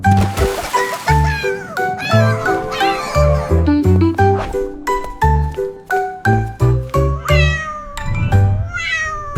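A cat meows repeatedly in short, rhythmic bursts, close and loud, with a light tinkling sound in the background.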